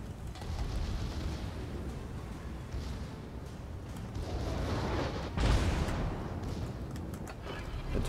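A Georgia battleship fires its guns in a naval video game, a muffled, rumbling low wash with one heavier boom partway through, moderately quiet throughout.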